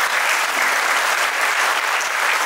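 Dense, loud audience applause at a motivational talk, a steady wash of many hands clapping together without a break.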